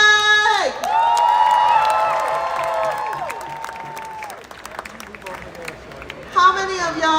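A crowd at an outdoor climate rally in New York City cheers and whoops loudly, with shouts rising and falling over sustained applause, and a voice carrying through a loudspeaker over the noise.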